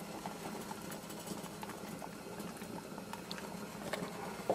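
Water boils steadily with a Samsung Galaxy S5 phone submerged in it, giving a dense, continuous bubbling and rumbling at close range with no break or talk.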